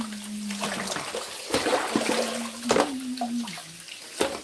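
Water from a tap runs and splashes while a kitchen sponge is rinsed out, a faint steady trickle with occasional knocks and clatters close by, no talking.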